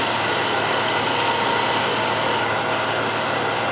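A woodturning scraper rides over a small ridge on the tool rest and catches as it cuts spinning wood, giving a loud, continuous, harsh rasping scrape that eases slightly near the end.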